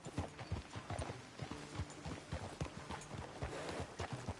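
Horse hooves clip-clop in a steady, rapid rhythm from a mount in Red Dead Redemption 2, fairly quiet and unaccompanied by talk, with a faint whinny-like tone mixed in.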